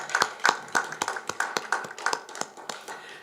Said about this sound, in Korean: 주님께 먼저 우리 감사의 박수를 올렸고요